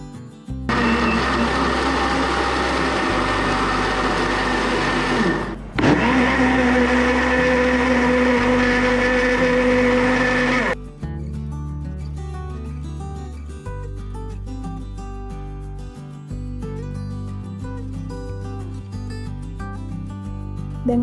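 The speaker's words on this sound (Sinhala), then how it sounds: "ඊට පස්සේ මේක අපි හොඳින් බ්ලෙන්ඩ් කරගන්න ඕනේ" An electric blender purees broccoli and spinach soup in two loud, steady whirring bursts separated by a short pause, followed by quieter background music.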